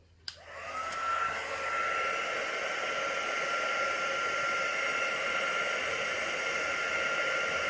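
A heat gun runs steadily over a resin flower coaster tinted with Castin Craft white pigment, a loud continuous blowing roar with a faint whine that starts with a click and holds for several seconds, no talk.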